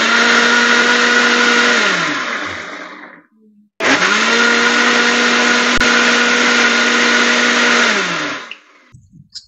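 A mixer grinder blends mango for popsicles in two loud, close bursts. A whirring whine runs for about three seconds, winds down and stops, then restarts for about five seconds before spinning down again.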